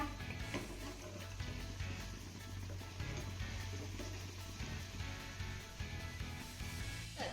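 Wheat flour malpua deep-frying in hot oil, a dense continuous bubbling sizzle throughout at moderate, steady level with no talking.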